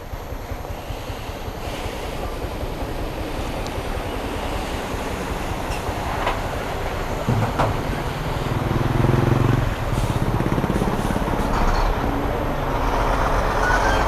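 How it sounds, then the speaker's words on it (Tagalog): Heavy rain pours steadily around a sheltered spot during a motorcycle trip, a dense broadband wash with occasional faint thumps and no voices. "Lakas ang ulan."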